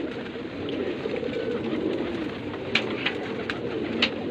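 Pigeons coo at a rooftop loft in Bulaq al-Dakrour with a soft, continuous murmur, joined by a few brighter chirps toward the end over steady background noise.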